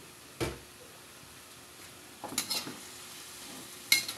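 Food frying in a pan is stirred with a utensil in a few separate bursts, faint scraping clatters against a soft background sizzle, fairly close.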